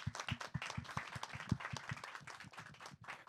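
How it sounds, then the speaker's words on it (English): An audience at a panel event on designing cities applauds steadily, with many hands clapping in a dense, even patter that continues throughout, heard from a distance and fairly faint. "It always makes me so happy when people clap at the right time without me having to mention it."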